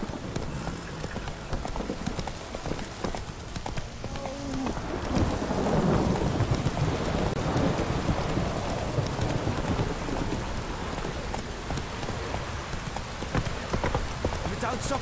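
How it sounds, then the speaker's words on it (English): Heavy rain pours down in the Witcher 3 game, a dense steady hiss with rumbling thunder swelling midway. Horse hooves clop throughout and a voice talks over it. "This downpour's a bastard, it is."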